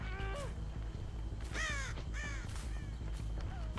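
Crows caw repeatedly in the Dead by Daylight video game, several harsh calls in bursts over a steady low in-game rumble, with no talking.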